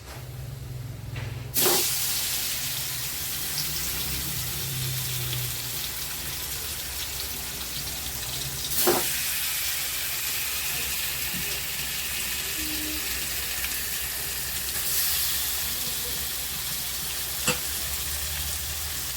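Meat frying in hot oil with whole cumin, bay leaf and small cardamom, a loud steady sizzle close by, broken by a few sharp clanks and stirring sounds.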